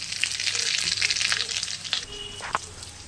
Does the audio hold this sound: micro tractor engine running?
no